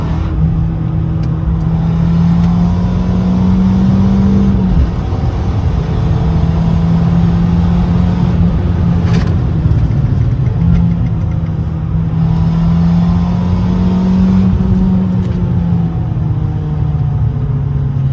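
A Fiat 500 Abarth with a Stage 1 tune, heard from inside as a loud, steady engine drone that dips and recovers a few times as it is revved and downshifted.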